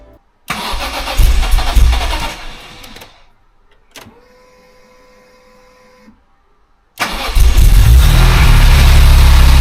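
A BMW E46 M3 engine cranks with a loud whirring starter, pauses briefly with a faint whine and a click, then catches and runs at a steady idle.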